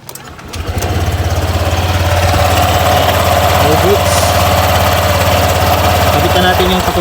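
A Honda Click 125i scooter engine turns over and starts, then settles into a steady, loud, close idle that holds evenly, with faint voices under it.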